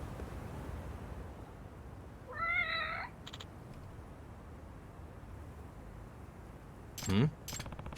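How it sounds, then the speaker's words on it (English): A cat meows a few times in the video game Lost Judgment, a short rising and falling call near mid-clip and another brief cry near the end, heard over a low steady ambient background. "that's the cat Hakase-san's taken care of"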